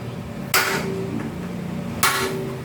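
Two sharp metallic hammer strikes ring out about a second and a half apart, each leaving a short ringing tail, as a hole is punched through a metal plate.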